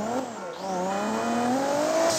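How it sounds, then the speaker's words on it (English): Loud 2JZ-swapped Beetle engine in GTA 5 revving, a rising, sustained high engine whine that climbs steadily in pitch across the whole stretch. "This thing's like extremely loud, but I love it."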